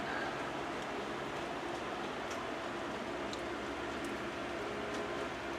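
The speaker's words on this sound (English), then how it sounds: "Might as well have fun in the rain." Steady rain pours down on a Fourth of July, a dense, constant hiss with faint scattered drips, heard alone with no voices.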